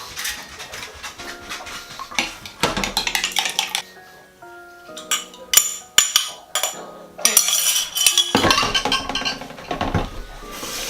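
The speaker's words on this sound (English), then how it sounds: "So I'm just going to crack the eggs into" Two large eggs are cracked into a jug just used for milk while making a traditional Scottish clootie dumpling, giving a run of sharp clinks, taps and kitchenware clatter in irregular bursts, close by, with no talking.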